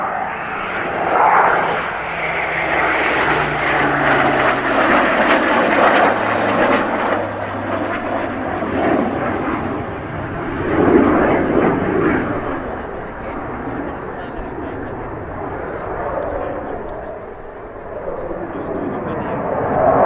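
A Spitfire and a Typhoon fly past together at the RAF Cosford Airshow, a loud sustained engine roar swelling and fading across the sky, with a commentator's voice over it.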